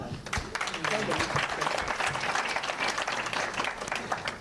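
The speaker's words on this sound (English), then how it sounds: "We need to give clap to her." A crowd at an event applauds for a businesswoman turned politician, steady close clapping from many hands that stays loud and even for the whole stretch, with some voices mixed in.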